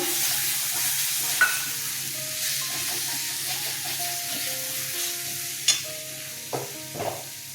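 Chopped tomatoes sizzle and fry in hot oil in a pan for a thin fish curry with potatoes and green chillies, a steady close hiss broken by a few sharp scraping stirs of a spatula.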